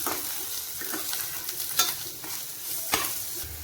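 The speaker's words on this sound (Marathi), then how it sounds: "कांदा लालसर होईपर्यंत भाजून घ्यायचा आहे।" Onion fries in a pan with salt and curry leaves, a soft, steady sizzle broken by several sharp scraping stirs of a spoon against the pan, close and fairly quiet.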